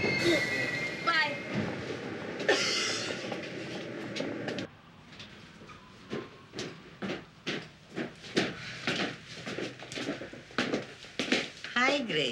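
A passing train rumbles with a rhythmic clickety-clack of wheels over rail joints, swelling and fading in regular beats, while people talk over it.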